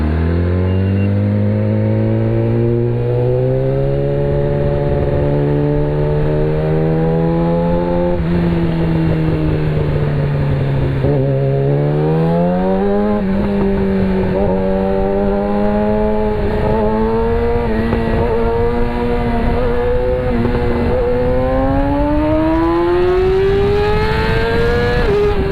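A Yamaha R6 600cc sport motorcycle engine revs up and accelerates through the gears, its loud, close whine climbing in pitch, dropping at each shift, then climbing again over about twenty-five seconds with no talking.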